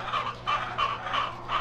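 62-week-old RTL laying hens cluck in a hot poultry house in Bohol, a steady chorus of rhythmic calls repeating about every third of a second, close and fairly loud with no talking.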